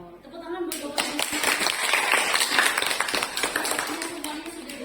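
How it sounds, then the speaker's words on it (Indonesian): Audience applause at a teachers' training session, a dense clatter of many hands clapping fairly close that starts abruptly after a brief quiet moment and holds steady to the end. "Tepuk tangan buat Bapak Ibu"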